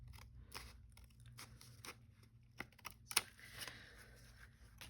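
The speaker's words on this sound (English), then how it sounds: "Just cut right along the edge here." Scissors snip along the edge of junk mail paper, giving faint, close, irregular crisp cuts and crinkles with a few sharper snips near the end over a quiet room.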